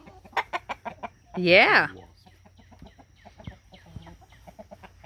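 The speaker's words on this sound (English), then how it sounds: "He is my favorite rooster." Rooster in a backyard garden flock gives one loud, drawn-out crow in the middle, with softer clucks and chicken calls scattered around it and a brief word of speech.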